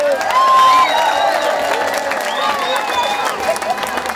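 A carnival hall audience claps and cheers loudly for young performers on stage, with whoops and high shouts riding over a thick, continuous roar of applause.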